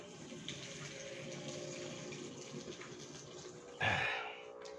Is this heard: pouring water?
yes